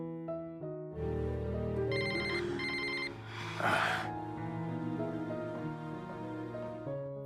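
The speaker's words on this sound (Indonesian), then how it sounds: "seperti biasa kebersamaan mereka itu terganggu oleh telepon dari Miriam." Telephone rings in a repeated electronic ringtone pattern over soft background music, clear and steady across several seconds with no talking.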